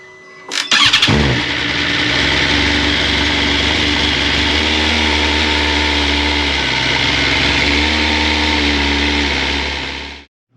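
BMW S1000RR motorcycle starting from cold: a sharp starter crank catches into a loud, steady high idle that holds close for several seconds, then cuts off abruptly.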